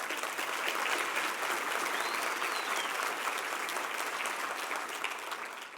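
A seated audience gives sustained applause for the Clark College Concert Choir, a dense, even roll of many hands clapping from start to finish.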